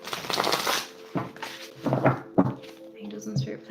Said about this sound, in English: I know this is a big shuffle, but I'm just channeling your energy